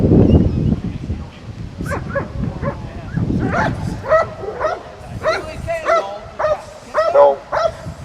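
A police dog barks and yips repeatedly during a suspect apprehension demonstration, a rapid series of loud, close barks with a whimper, with people talking at the start.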